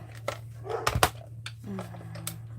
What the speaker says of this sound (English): my little dog will bark and bark and bark